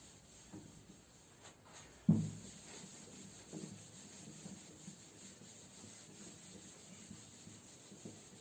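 A faint rubbing sound of writing being wiped off a board during a maths lesson, with a soft knock near the start of the wiping and quiet scraping strokes after it. No one speaks.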